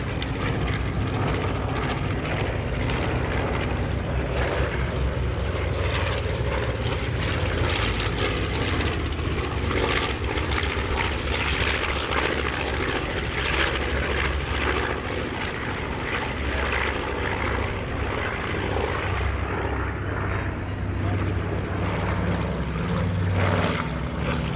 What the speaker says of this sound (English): Bombers and transports at the World War II region.